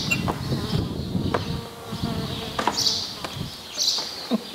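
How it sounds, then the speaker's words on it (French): A wasp buzzes close by at a winery, its droning hum wavering in loudness, interrupted by sharp clicks and knocks. "il y avait une guêpe"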